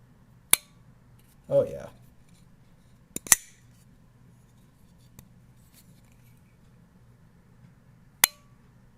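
Sharp metallic clicks from a Microtech LUDT Gen 3 automatic knife, several crisp isolated snaps spaced seconds apart, close to the mic in a quiet room, with a brief spoken exclamation among them.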